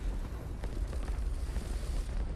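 A 1,000-pound bomb detonates on a PT boat in War Thunder, a deep, sustained rumbling blast that rolls steadily through the clip without a sharp single crack.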